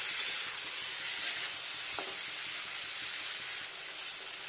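Tomatoes sizzling steadily in a pan on medium-high heat for a vegetarian paneer and potato curry, a continuous bright frying hiss with one faint clink near the middle.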